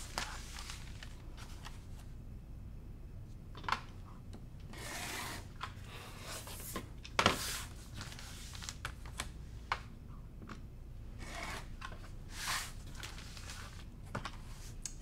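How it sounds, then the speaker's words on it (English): Quilt fabric being cut along the lines, faint and close, with scattered short crisp cutting and scraping strokes over a quiet background and one sharper stroke in the middle. "So what I like to do first is cut on all 4 sides on the outside"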